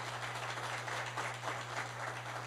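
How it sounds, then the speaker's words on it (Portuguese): An audience at a patriotic symposium gives a faint, steady round of applause, heard at a distance over a low electrical hum. "Eu peço uma salva de palmas para o doutor Antônio Ribas"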